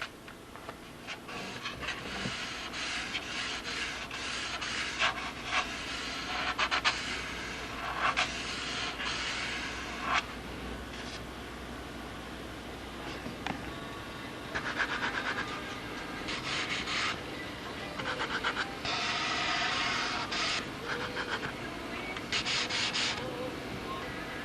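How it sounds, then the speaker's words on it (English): A balsa model aircraft wing being sanded by hand, with close, raspy rubbing strokes in irregular bursts of varying length over a steady low background hum. "we'll do the whole wing and then sand them down"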